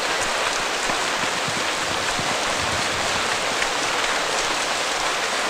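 Steady heavy rain pours down in a dense, unbroken hiss that holds at an even loudness throughout, with no voices.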